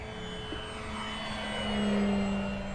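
An FMS Pitts V2 1400mm RC biplane drones overhead on a calm day over a paved runway, its buzzing motor tone rising slightly as it passes, faint and distant.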